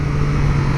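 Triumph Street Triple RS motorcycle engine running steadily nearby, a loud continuous low drone with a constant hum and no talking.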